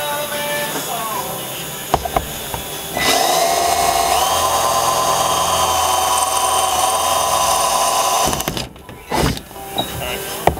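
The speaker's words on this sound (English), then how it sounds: "First step is to drill out the rivets at the 2 o'clock, 4 o'clock, and 8 o'clock position." A power drill whirs in sustained bursts drilling out rivets on a Jackson Cuda kayak, running steadily for several seconds before stopping, close and loud, with brief clatter between runs.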